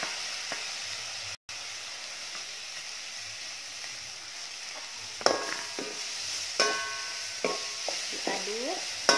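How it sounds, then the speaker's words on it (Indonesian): Washed bitter gourd tossed into a frying pan of sautéed aromatics: steady sizzle, then clattering and scraping stirring strokes of a utensil against the pan, close and clear. "kita masukkan pare yang tadi yang sudah kita cuci bersih"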